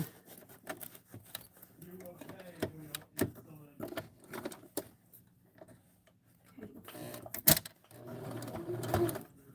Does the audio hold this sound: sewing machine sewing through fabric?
yes